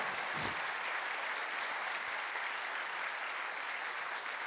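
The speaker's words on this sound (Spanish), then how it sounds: "Levante un fuerte aplauso si creemos al Señor esa preciosa promesa" A church congregation claps together, a sustained, fairly faint and even patter of many hands with no voices standing out.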